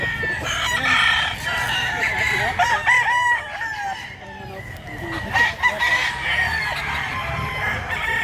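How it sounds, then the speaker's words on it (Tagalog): Several roosters crow over one another amid busy clucking from a flock of chickens, loud and close, continuous throughout. "Daghang manok."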